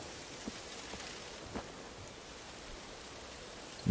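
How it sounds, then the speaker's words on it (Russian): Rain falls in the video game Generation Zero, a faint, steady hiss with a few soft taps. "дождь же идет"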